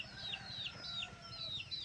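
Chickens in a rice field give a run of repeated high, short calls over low clucking and a soft outdoor background, nearby with no one speaking.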